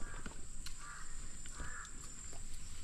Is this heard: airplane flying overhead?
no